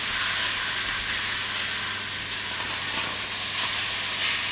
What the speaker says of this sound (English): sear it on one side, I'll sear it over on the other